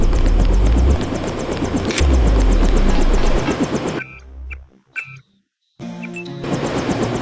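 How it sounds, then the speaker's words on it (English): Helicopter engine and rotor roar in the PC game Deus Ex, loud and sustained for several seconds, then cutting into near-silence with scattered game sounds before the drone resumes. "The helicopter is waiting."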